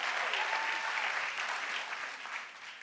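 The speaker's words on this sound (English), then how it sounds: "you can applaud because you should" A church congregation applauds in a dense, continuous wash of clapping that fades gradually over a few seconds.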